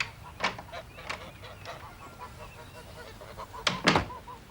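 A grey-headed goose honks in short bursts, with a few scattered calls early on and a loud, close pair of honks near the end.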